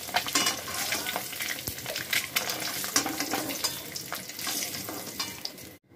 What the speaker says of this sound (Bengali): এবার ওই একই তেলে দিয়ে দেবো পেঁয়াজ কুচি। পেঁয়াজটাকে একটু লাল লাল করে ভেজে নেব।